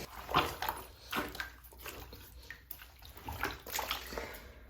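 Laundry soaking in a tub of dirty water is stirred by hand, giving repeated close sloshing and swishing bursts in an uneven rhythm, fairly quiet overall, with no one talking.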